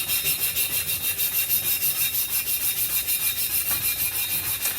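Rust being scrubbed off the chassis of an El Camino: a close, steady back-and-forth scraping with an even rhythm, repeating continuously without pause and with no voices.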